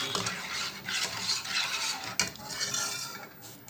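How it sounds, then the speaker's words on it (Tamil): A spoon stirs seaweed and milk pudding in a pot, scraping and swishing steadily up close with a faint bubbling underneath and no talk. "நான் 5 நிமிஷமாக இது கிளறி கொடுத்துட்ருக்குறேன்."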